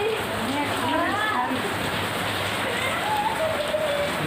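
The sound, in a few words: heavy rain falling with wind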